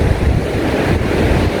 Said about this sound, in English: Nice breeze coming off of the sea.